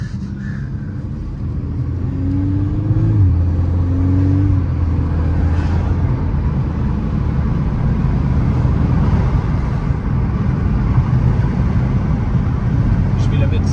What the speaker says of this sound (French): Je vais la mettre, tu sais, sur le parking, là, en plein milieu, et je vais faire des donuts.